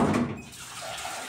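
Water runs steadily from a tap into a sink while dishes are washed by hand, a continuous close splashing hiss with no talk.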